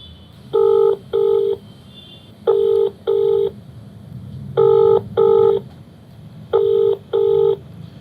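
Telephone being dialed, four pairs of crisp keypad tones in a steady rhythm with brief gaps between pairs, loud and close over a low background murmur.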